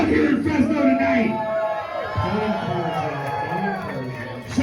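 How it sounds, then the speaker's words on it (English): Loud wrestling crowd in Fresno roars and cheers at an indoor match, with shouts and whoops blending into a dense, continuous wall of noise that stays steady throughout. "this crowd is so loud here in Fresno tonight"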